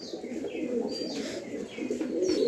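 Lahori fancy pigeons on a farm coo softly and steadily, their low murmuring calls close by, with a few faint chirps from other birds above.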